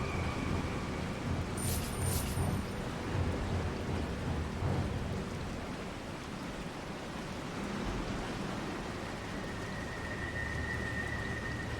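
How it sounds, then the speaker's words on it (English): A thunderstorm rages in the video game Resident Evil 4, with heavy rain hissing steadily and deep rolling thunder rumbling beneath it throughout. "God, I love the lightning"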